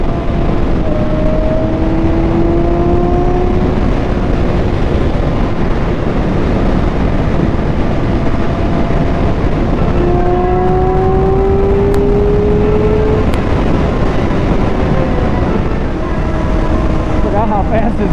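Motorcycle ridden fast, a loud continuous engine roar with rising pitch sweeps as it accelerates through gears, heavy wind rush throughout.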